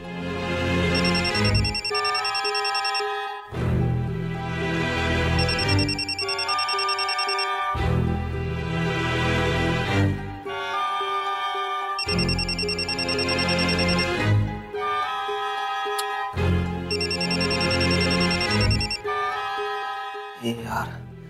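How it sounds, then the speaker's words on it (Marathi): A mobile phone rings on an unanswered call, its bright melodic ringtone looping in repeated phrases of a few seconds each, loud and close, with a vocal-sounding melody in the tune. "फोन उचल"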